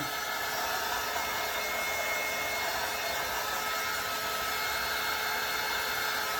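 A handheld heat tool blows steadily to heat set and dry chalk paste, making a constant soft airy hiss with no talking.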